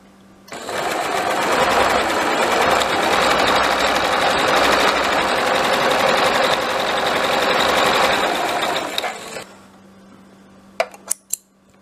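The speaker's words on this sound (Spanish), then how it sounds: "comenzamos nuestra costura en esta" A domestic sewing machine stitches stretch knit Lycra fabric using a presser foot for elastic fabrics, a loud, fast, even mechanical whirr running for about nine seconds before stopping, followed by a few light clicks.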